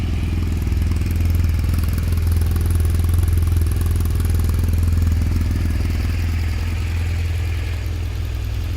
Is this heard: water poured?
no